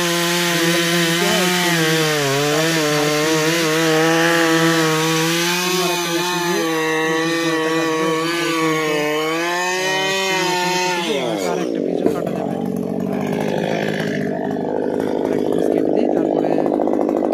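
A chainsaw cuts into a tree, its engine whining loud and close in a wavering, sustained pitch for about eleven seconds before dropping abruptly as the cut finishes, then a rougher, lower rumble continues.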